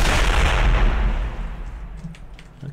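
Mortar fire in the World War II strategy game Company of Heroes: Tales of Valor, a loud booming barrage with a rumbling low roar that slowly fades, followed by faint distant pops.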